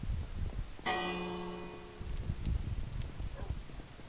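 A bell in the video game Minecraft rings once with a clear, metallic strike, and its tone decays slowly over low, scuffing background sounds.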